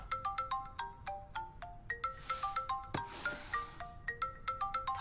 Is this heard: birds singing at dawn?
no